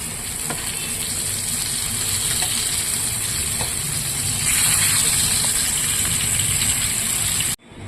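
Bitter gourd (karela) fries in a pan as a steady, close sizzling hiss that swells louder midway and then cuts off abruptly at the end.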